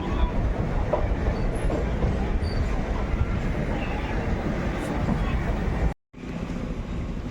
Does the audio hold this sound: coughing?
no